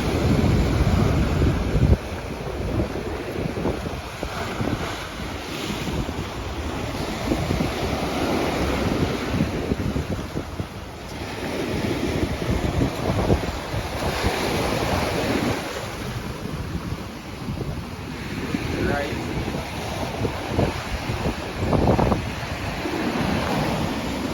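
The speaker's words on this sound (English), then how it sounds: "See that big wave?" Ocean waves surging and breaking under strong wind during a cold front at a dead-end shoreline in Montego Bay, a steady loud roar with gusty wind buffeting the microphone throughout.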